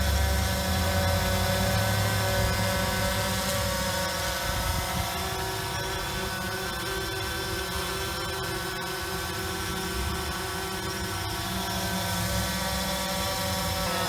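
A drone in flight during a test, giving a sustained whirring buzz with steady tonal rotor lines that stays loud and even, easing slightly partway through, with no voices.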